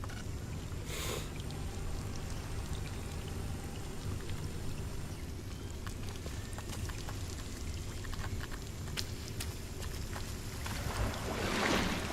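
Splashing and sloshing of a player wading through water in the game Scanner Sombre, a steady wash of watery noise lasting throughout, with a brief louder splash near the start and rising swirl at the end, no talk.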